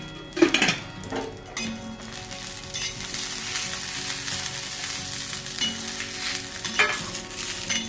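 Green chillies roast in a little oil in a pan for a Maharashtrian bombil thecha, sizzling and crackling steadily up close while a utensil clinks and stirs against the pan now and then.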